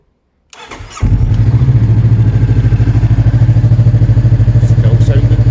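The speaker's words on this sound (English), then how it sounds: "time to start up the CB" A Kawasaki ER6N motorcycle engine cranks briefly, then catches and settles into a loud, steady, rhythmic idle with a pulsing low throb, close by.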